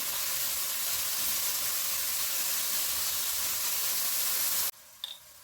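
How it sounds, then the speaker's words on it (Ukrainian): Steady, loud sizzling of onions frying in a pan over medium heat, a continuous hiss that suddenly cuts off near the end, leaving quiet. "І обсмажую приблизно 2-3 хвилинки на середньому вогні."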